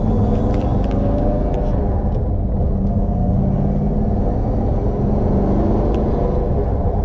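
A 1970 Plymouth Superbird engine idles in neutral, a loud, steady, close rumbling with a deep, uneven lope and no talk.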